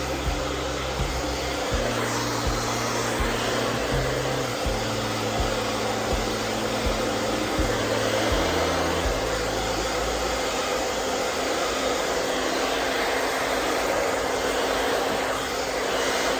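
A hair dryer blows steadily while 4c hair is blow-dried and smoothed with a comb, a constant loud whooshing hum with a low motor drone that shifts slightly in pitch throughout.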